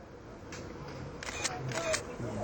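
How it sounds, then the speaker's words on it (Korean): A single-lens reflex camera fires its shutter rapidly at a 1987 student street protest, a single click and then two quick bursts of crisp mechanical clicks over steady background noise, with a faint voice underneath. "셔터를 누르기 시작했다"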